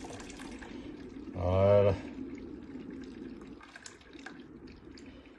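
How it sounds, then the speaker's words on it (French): Thick homemade soup poured gently through a strainer, a brief liquid splash and trickle lasting under a second amid quiet kitchen noise, with a voice speaking nearby. "quand vous allez passer votre soupe, vous la versez délicatement"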